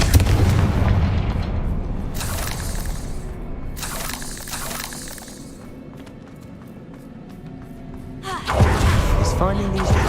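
A Confringo fire spell explodes in Hogwarts Legacy with a heavy booming blast and crackling burst, followed by fading rumble and another loud impact near the end, with a person talking amid the game sounds.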